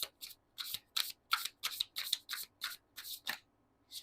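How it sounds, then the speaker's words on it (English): A tarot card deck is shuffled by hand, about a dozen quick crisp riffling bursts in an uneven rhythm, soft and close in a quiet room with no talking. "I'm not used to shuffling this deck."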